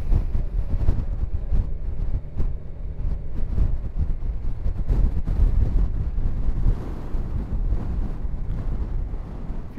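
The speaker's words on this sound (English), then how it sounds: "Definitely a lot of wind out here." Wind roars steadily and loudly across the microphone on a motorcycle ride near Petty Harbour and Cape Spear on a cold day. The low buffeting rumble fills the whole stretch without a break.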